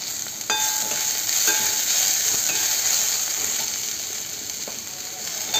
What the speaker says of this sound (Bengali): আমি ঝিঙেগুলো দিয়ে দিলাম।